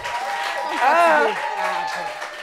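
Audience applause at a French discussion gathering about marriage: a steady, close wash of clapping that swells mid-way, with voices calling and talking over it.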